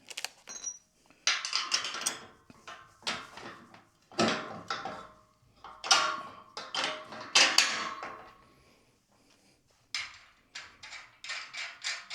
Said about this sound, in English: Let's throw the front axle on here.